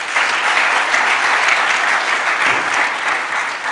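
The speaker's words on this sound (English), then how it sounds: "Let's give Herman a bigger round of applause." Steady, loud audience applause fills a tech and innovation summit hall in Ghana, dense clapping sustained without break from start to finish.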